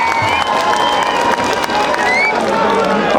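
A large outdoor rally crowd in Lakhanpur, Kathua cheers and applauds in welcome, continuous dense clapping mixed with shouting voices and whistles, loud and close throughout.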